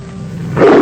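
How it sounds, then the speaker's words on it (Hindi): A lion's roar begins, a short, loud, close growl that swells abruptly in the last half second, heard alone. "शेर,"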